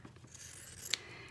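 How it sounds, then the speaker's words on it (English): Kitchen scissors snipping through embroidery fabric, giving soft rustling cuts that end in one crisp snip, close but faint in a quiet room. "take some kitchen scissors, because embroidery scissors are usually too small to do this, and cut about 1 inch around"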